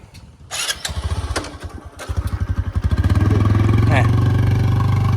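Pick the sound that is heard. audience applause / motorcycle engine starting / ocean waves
motorcycle engine starting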